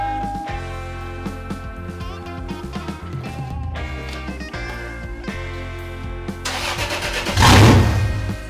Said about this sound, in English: Well, the truck fired up without issue, so that is super exciting.